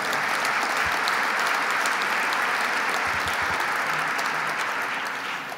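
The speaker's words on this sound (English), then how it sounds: "Let's give Bill a round of applause" A large audience at a business association breakfast gives a sustained, dense round of applause honoring a retiring chairman, loud and even throughout, tapering only slightly at the very end.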